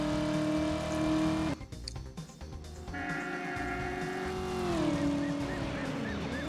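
Game car engine in Driver drones and whines as the car crosses bridges, pitch rising and shifting, with a brief interruption of clattering noise midway.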